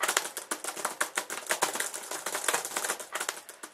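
Rapid, dense clatter of keys being hammered on a keyboard, a continuous flurry of crisp clicks with no pauses, loud and close.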